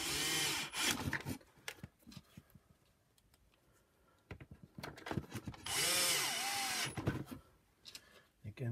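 A power tool drives T20 Torx screws back into a Shark Lift-Away NV602UK power nozzle in two loud, close whirring bursts with a quieter pause between them. Clicks and plastic handling noises fill the gaps, and someone talks over parts of it.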